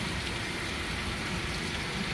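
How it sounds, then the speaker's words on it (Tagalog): Heavy rain pouring during a severe thunderstorm, a dense, steady broadband roar with no breaks or distinct drops, fairly loud and enveloping, with no voices. "Grabe yung ulan ngayon guys, ang lakas."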